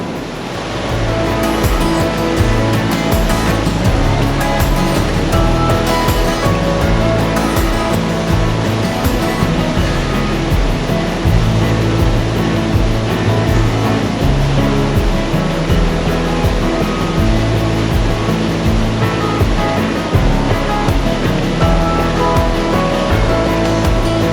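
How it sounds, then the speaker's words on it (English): A waterfall surges through a frozen river, producing a loud, dense, continuous roar of rushing water that stays unbroken throughout with no voices. "This water that's surging in the background"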